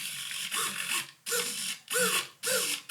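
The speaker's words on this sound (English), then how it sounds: "because this is on a servo, of course, we can pan the camera left and right." A small servo pans an FPV camera inside a model Spitfire cockpit, giving four short whirring, ratcheting bursts separated by brief pauses, close up with no talking.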